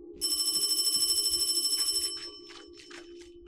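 A telephone bell trills loudly and continuously in a sewer in a Chinese horror video game, then cuts off after two seconds, leaving footsteps and a low hum over the sewer ambience.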